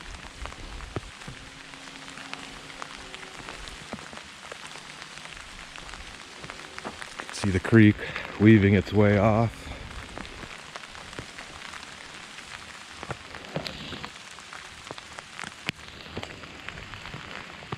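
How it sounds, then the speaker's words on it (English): Rain patters steadily on the forest canopy during a wet hike to a Nebraska waterfall, a soft constant hiss with scattered drips. Someone speaks briefly partway through. "At least the trees help block a little bit of the rain."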